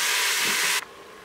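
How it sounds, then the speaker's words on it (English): Ground meat sautes in a hot pressure cooker pot, giving a loud, steady broadband sizzling hiss that cuts off abruptly, leaving a faint quiet background. "Add in your ground beef or ground turkey and saute."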